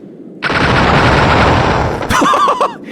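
Rapid automatic gunfire from the video game No Players Online rips in a loud, dense sustained burst lasting about a second and a half, then stops and a short wavering, cry-like tonal sound follows.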